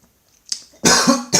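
A person coughs close up while getting ready for an early-morning drive. A faint, brief throat sound comes first, then one loud, harsh cough burst and the start of another.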